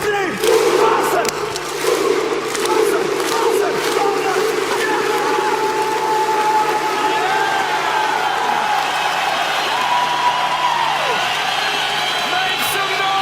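A conference audience screams together in one loud, sustained roar of whoops and cries that fills the room.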